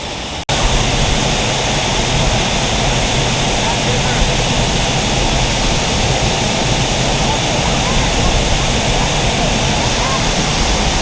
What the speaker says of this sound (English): So here I am standing behind the waterfall at Bridal Veil Falls.